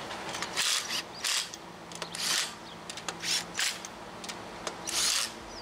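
Lug nuts on a 2006 Subaru Forester rear wheel are snugged down by hand, a series of soft ratcheting and rubbing bursts repeating in an uneven rhythm, fairly quiet and close.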